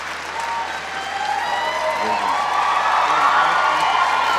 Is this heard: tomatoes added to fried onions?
no